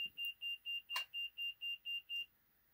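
A rapid series of about ten short, high-pitched electronic beeps from a diagnostic tool during a fuel injector balance test on an 8.1 Vortec engine, in an even rhythm, clear and fairly faint, then silence.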